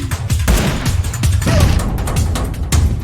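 Loud, dense gunfire from PUBG Mobile, a steady clatter of rapid shots and impacts running through the whole stretch with no clear pauses.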